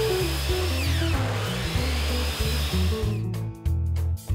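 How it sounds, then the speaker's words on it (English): A powered miter saw trims rough ends off ripped pallet wood boards: a whining motor rises and dips in pitch in repeated stretches, then breaks into sharp, choppy cutting bursts near the end. "set up, and give power to the miter saw station. Then cut the rough ends off the ripped boards."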